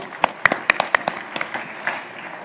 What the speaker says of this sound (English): A huge round of applause again, ladies and gentlemen, for Rishabh Shetty.